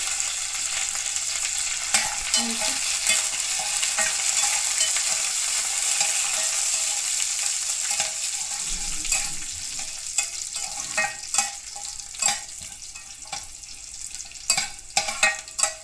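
Dried red chillies and curry leaves crackle and sizzle in hot oil for a moringa dal tempering, a continuous frying hiss broken by sharp clicks and scrapes of a spoon stirring in the pan, no talking.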